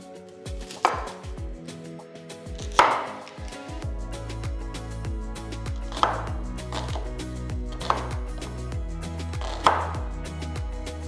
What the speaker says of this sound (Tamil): முதல்ல 2 பெரிய வெங்காயத்தை எடுத்து தோலை எடுத்து ரஃப்பாக கட் பண்ணி தனியாக எடுத்து வச்சிடலாம்